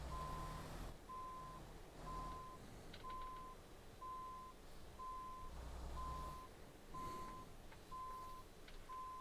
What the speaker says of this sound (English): we're going to back up